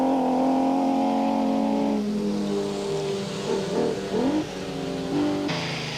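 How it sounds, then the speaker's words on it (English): A BMW rally car competing in the National Rally Championship on a rally stage at the Tour Natal, engine revving hard and then shifting pitch as it pulls away, loud and close, with no voices. "This is the only BMW currently competing in the National Rally Championship."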